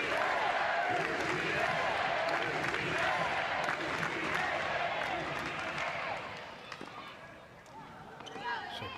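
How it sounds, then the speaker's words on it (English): A college tennis crowd at an NCAA Division I women's championship match cheers and claps in a sustained, noisy roar that fades somewhat toward the end, with a commentator talking over it. "the crowd is unrelenting now that they know they've gotten under her skin"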